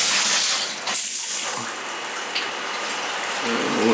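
Water sprays hard and steadily from a leaking tub shower head, a loud continuous hiss and splatter with a brief dip partway through and a faint voice at the end.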